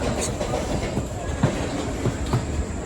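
A train rumbles steadily at Ratnagiri railway station with soft rhythmic clacking of wheels on rails, a continuous close mechanical drone filling the background.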